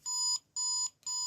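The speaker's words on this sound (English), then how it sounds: "You get a few beeps, and that tells you that you've activated the sound effects." Three steady electronic beeps, each about a third of a second with short gaps, sound from a 15th Doctor sonic screwdriver toy from Doctor Who as its secret sound effects switch on, close and fairly quiet.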